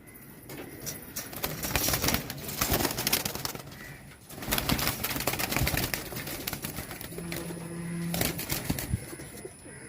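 Pigeons coo low and soft near the end, amid bursts of rustling, scraping noise and fluttering movement in a busy coop.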